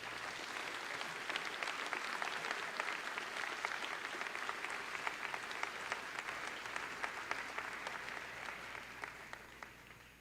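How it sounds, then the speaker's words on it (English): Commencement audience at a school graduation ceremony clapping steadily, a dense sustained round of applause from a large crowd that holds evenly and tapers slightly at the end. "Let's give them another round of applause."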